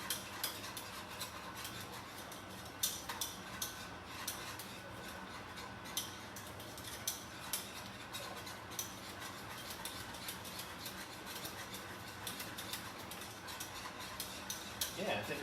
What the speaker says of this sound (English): So I'm going to continue stirring this until it gets thick,